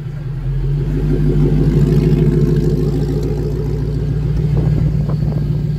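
A hot rod's engine rumbles close and loud, with a deep throbbing idle that rises slightly as the car pulls away, steady and heavy, with a few faint clatters near the end and no clear speech.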